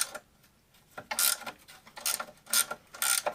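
A ratchet tightening an A-arm bolt on a Polaris Sportsman ATV, quick bursts of clicking pawl strokes repeated four times with short pauses between, close and clear, no voices.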